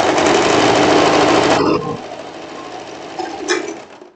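A sewing machine runs fast for a couple of seconds stitching the side seams of a floral wrap dress, a close, buzzing whir that cuts off, followed by quieter handling noises and a short second burst.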